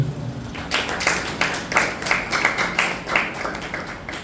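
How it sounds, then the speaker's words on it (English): Audience clapping for a keynote speaker at a LinkedIn Local tech event in Calabar, a steady patter of scattered hand claps with individual sharp slaps standing out over a few seconds, fairly close and moderately loud. "Clap hand for him."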